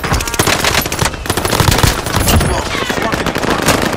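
Gunfire in the Call of Duty video game, sustained loud automatic bursts and rapid shots filling the whole stretch, with occasional voices mixed in.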